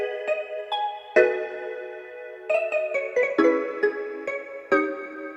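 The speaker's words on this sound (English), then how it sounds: "I added RC20 with just some stereo wobble and some space and a little bit of distortion" Mallet pop synth processed with stereo wobble, added space and a little distortion, sounding warmer and slightly hazy as it plays a loose run of plucked chords and notes with soft decays, alone and close.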